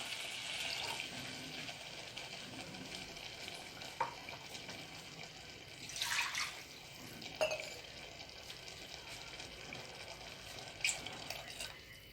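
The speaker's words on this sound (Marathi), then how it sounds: "आधी मसाल्याचं पाणी टाकतो मी" Spiced water splashes into a hot pan with a few sizzling bursts and stirring scrapes over a quiet background hiss.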